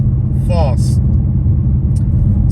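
A Ford Mustang California Special V8 rumbles in a deep, steady idle close by, with a short spoken phrase and a few faint knocks on top.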